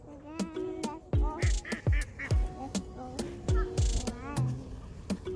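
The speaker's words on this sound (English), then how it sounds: "the ducks are swimming in the water" Ducks swimming on water quack repeatedly in short nasal bursts, several calls overlapping at close range, with a faint background murmur between them.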